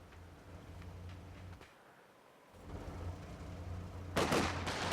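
Rifle fire crackles across a Company of Heroes 2 battlefield, scattered shots at moderate distance with a brief lull, then a louder burst near the end.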